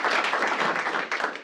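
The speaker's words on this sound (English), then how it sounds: "let's give yourselves a round of applause" Audience applause at a stakeholder meeting: a short burst of dense, steady clapping from a crowd, fairly loud and close.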